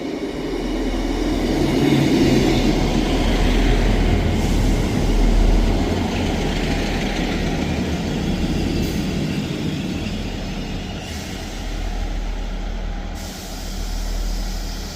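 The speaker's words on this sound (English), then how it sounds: "Departing out now is the 1340 ScotRail service from Edinburgh Waverley to Perth." A ScotRail class 158 diesel multiple unit departs Ladybank station with a steady, loud engine drone and rumble that holds for the full stretch, close by on the platform, with faint higher hiss over it and no voices.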